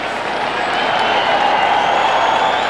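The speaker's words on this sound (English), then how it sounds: "So the Giants hear it from the home crowd." A home stadium crowd at a 1994 NY Giants football game against Cincinnati gives a sustained, steady roar with a faint whistling tone, loud and unbroken throughout.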